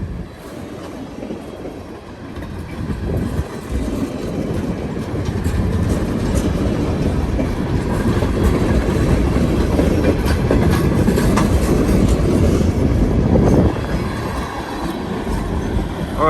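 A long, fast freight train pulled by four locomotives, two leading and two distributed mid-train, rolls past with a continuous heavy rumble and wheel clatter that swells and holds, then eases slightly toward the end.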